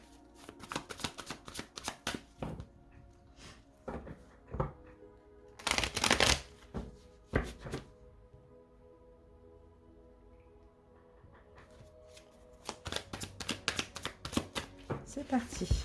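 A deck of tarot cards is shuffled by hand in several quick riffling bursts, close and crisp, with quieter pauses between them and soft speech in French at times.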